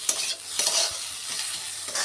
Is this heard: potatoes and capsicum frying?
yes